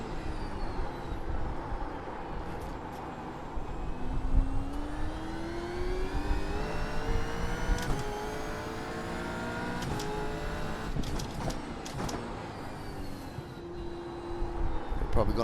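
Gen 3 V8 Supercar racing round Twin Ring Motegi GP circuit in the iRacing simulator, engine note rising and falling through gears with steady whine, heard under someone talking throughout.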